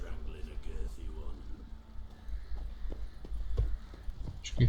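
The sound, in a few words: horse hooves clip-clopping in The Witcher 3 video game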